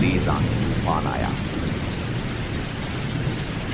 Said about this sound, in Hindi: उसी रात बहुत तेज बारिश चमकी, बिजली और तेज आंधी तूफान आया।